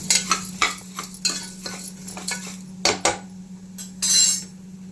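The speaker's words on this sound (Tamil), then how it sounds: "நம்ம கட் பண்ணி வச்சுருக்க சொரக்காவை போட்டுக்கலாம்" Chopped bottle gourd tipped into a hot pan and stirred, with a utensil scraping and clattering against the metal over a faint sizzle in a series of distinct strokes, close and fairly loud.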